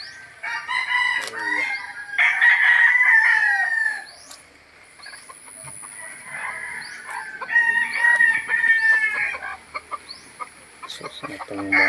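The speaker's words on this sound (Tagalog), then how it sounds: "ilang mga manok kan daw." Roosters crow loudly and repeatedly on a farm, long drawn-out calls close by, with clucking chickens in between and a voice faintly under them.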